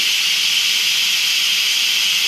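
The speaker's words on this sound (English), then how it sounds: "You can see it's going to have a lot of steam." An Instant Pot pressure cooker vents steam after being opened, giving a loud, continuous, even hiss that holds steady from start to finish with no talking.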